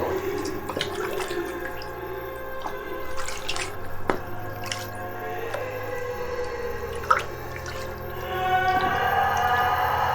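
A watery sound effect for a half-decomposed body surging up out of jacuzzi water: gurgling, dripping and bubbling tones with a sharp splash partway through, swelling louder toward the end, with no voice over it.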